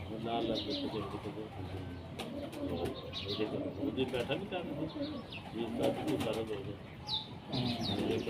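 A female pet pigeon with a pink neck ring coos repeatedly in low, rolling phrases close by, with occasional chirps and someone talking over the calls.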